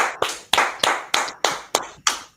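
Seven sharp, evenly spaced claps ring out close and loud, a steady rhythmic beat with no talking.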